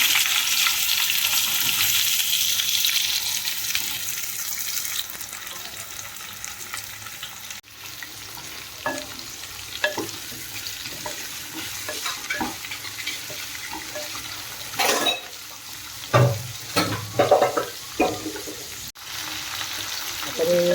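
Onion fries in hot oil for a biryani, a dense crackling sizzle at first that settles lower, punctuated by sharp scrapes and knocks of a spatula stirring in the pan.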